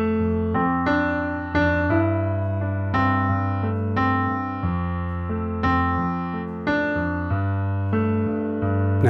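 Piano left-hand part of a song, played solo as sustained bass notes and chords moving through a repeating phrase, each struck note ringing into the next at a steady, moderate pace.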